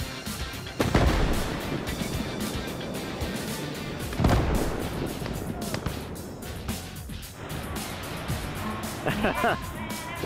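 Tor siege mortar fire in the video game Gates of Hell, heavy booming blasts with distant gunfire and battle noise, while voices talk over the action.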